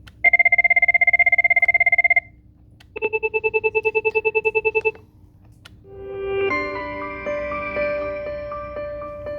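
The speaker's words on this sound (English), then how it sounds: "you can preview the different ringtones by pressing play." A desk telephone plays through several ringtone previews, one after another: a fast trilling ring, then a second pulsing ring, then a brighter melodic tone, each clear and close with no talking.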